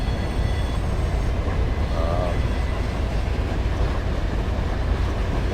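Steady low rumble of a train rolling past in Barstow, a continuous heavy drone with no clear pauses, moderately loud throughout.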